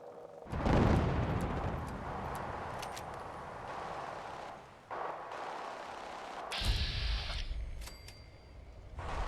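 Explosions and gunfire in the video game Fallout 4, with sentry bots fighting machine gun turrets: heavy booming blasts and rumbling bursts rolling in waves, loud and sustained, with no talking.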